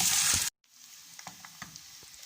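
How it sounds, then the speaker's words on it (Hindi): Finely chopped potatoes frying in oil and ghee: a loud sizzle opens the clip, cuts out abruptly, then settles into a steady low sizzle with small crackles and stirring clicks. "सबसे पहले हम इन्हें अच्छी तरह से इसमें 2 से 3 मिनट तक के लिए फ्राई करेंगे"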